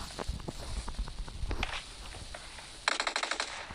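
Automatic gunfire in the PUBG video game, rapid bursts and footsteps at first, then a loud sharp burst of closely spaced shots near the end.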